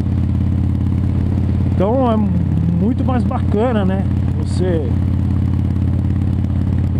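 A Harley-Davidson Dyna motorcycle engine drones steadily throughout a country road ride, a loud constant low rumble with someone talking over it.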